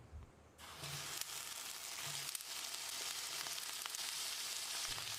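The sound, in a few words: sliced eggplant frying in oil in a pan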